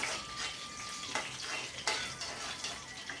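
A spoon scraping and stirring oats pasta in a pan, with soft steady sizzling under a few sharper metallic scrapes and taps, close up and without talk.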